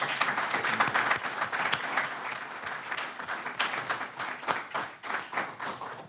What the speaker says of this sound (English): I would like to give a round of applause for our panelists today